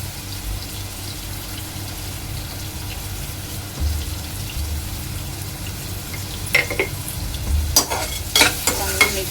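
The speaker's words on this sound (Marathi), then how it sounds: "कांदा चांगला तेलामध्ये शिजवून घ्यायचा आहे" Onion frying in oil for a prawn pulao, a steady close sizzle, with scraping stirs of a spoon in the pan growing busier and louder toward the end; no one speaks.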